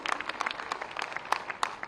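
Audience clapping at a memorial statue unveiling ceremony, a brief, fairly faint patter of scattered applause.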